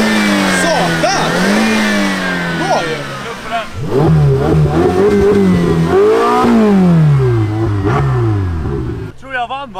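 A sports car engine revs loudly and close up as the driver accelerates, climbing in pitch several times with short drops between gear changes. The roar stays strong throughout and cuts off abruptly near the end.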